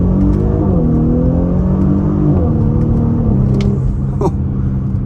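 A 2023 Audi SQ5 luxury SUV accelerates hard in first gear, its loud engine rumble climbing steadily in pitch from inside the cabin, with a brief shift near the end.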